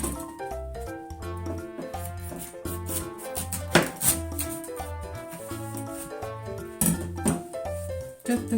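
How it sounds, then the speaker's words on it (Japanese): A kitchen knife slicing boiled bamboo shoot on a cutting board, steady repeated chopping knocks at an even rhythm, close and moderately quiet, with a couple of louder thuds. "ちょっと切り目を入れました。"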